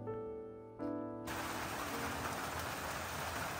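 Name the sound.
rain falling outside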